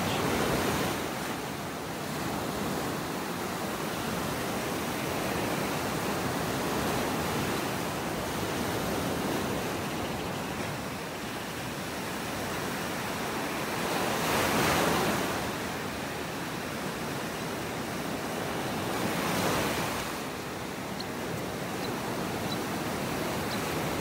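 Ocean waves on a beach in North Naples, Florida, rolling in as a steady wash of surf with swells cresting every few seconds, a broad hiss over light wind, no talking.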